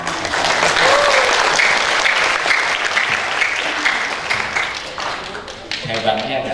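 A large audience at a vocational health school graduation ceremony bursts into sustained, dense applause, with a voice coming in over the clapping near the end.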